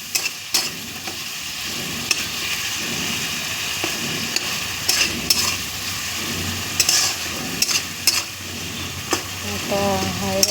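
A masala spice paste sizzles steadily in a pan for a dish of katla fish head with prawns and banana flower, with periodic spoon scrapes and stirring knocks over the constant frying hiss.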